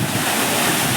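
Water rushes steadily at the Courtallam falls, a dense, loud broadband roar filling the whole second with no voices.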